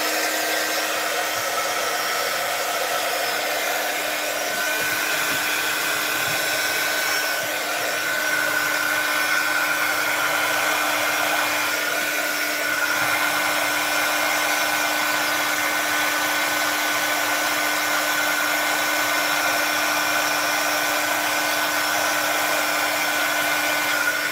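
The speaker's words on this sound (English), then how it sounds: "I'm going to be using my heat tool again, so I'm going to blast all your ears off for a second." A heat tool for crafting and stamping blows continuously at close range, a steady loud whooshing hum that runs unbroken for the whole stretch with no talking.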